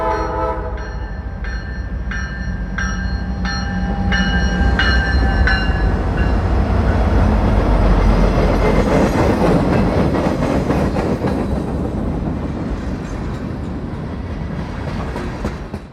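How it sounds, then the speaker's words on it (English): Freight train hauling wood chips, led by ES44AC and SD60E diesel locomotives climbing steep mountain grades through loops toward Asheville; a horn sounds in repeated blasts early on, then a loud steady engine roar and rolling rumble fill the rest. "While they seem overpowered with a -9 and SD60E, it will certainly make it much easier to climb the steep grades in the loops."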